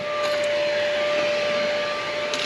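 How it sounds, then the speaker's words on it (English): Vacuum cleaner sucking broken glass out of a loader, a steady close, loud droning whine with a constant high tone running unbroken throughout. "So I think first we'll vacuum this loader out"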